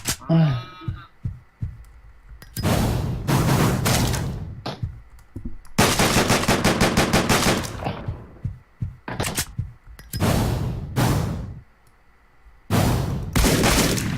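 Rapid bursts of gunfire from the top-down shooter game Deadbolt, loud and repeated in several dense volleys with short gaps between them, near and punchy, with a player's voice talking over the start.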